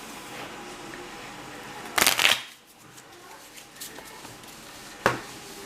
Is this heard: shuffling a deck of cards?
yes